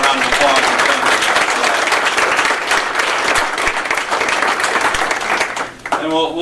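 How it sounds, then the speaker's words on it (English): An audience applauds steadily and loudly, dense clapping filling nearly the whole stretch before fading at the end as a voice starts to speak. "let's give Mr. Harris another round of applause"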